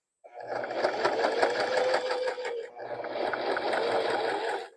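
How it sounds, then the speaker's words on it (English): A sewing machine stitches along the bottom edge of a fabric toy-storage pocket in two steady bursts of rapid mechanical hammering, close and loud, separated by a brief pause. "I'm going to backstitch at this fold."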